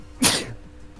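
A single sharp human sneeze, close and fairly loud, with a short breathy tail and a quiet room behind it.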